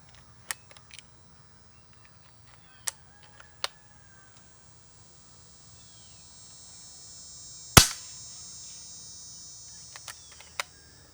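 Several soft, sharp pops from a Diana Skyhawk .22 regulated air rifle with its stock shroud, scattered across quiet background, with one louder crack in the middle.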